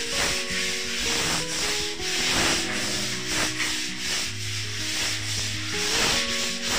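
Sandpaper rubs back and forth across a gypsum ceiling in steady, rhythmic strokes during painting preparation, a loud close scratchy sanding that continues without pause and with no talking.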